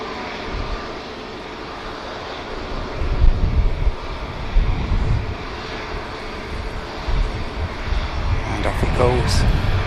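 An EasyJet airliner bound for Amsterdam takes off at Manchester Airport, a steady engine roar with wind buffeting the microphone, swelling slightly toward the end, with faint voices now and then.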